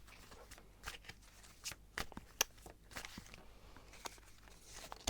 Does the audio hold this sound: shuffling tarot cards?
yes